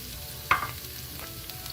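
Ground turmeric, cumin, coriander and chili powder cook gently on low heat, giving a faint steady sizzle with a single clink of a stirring spoon near the start.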